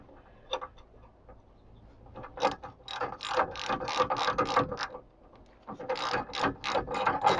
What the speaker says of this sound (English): We can use a ratchet.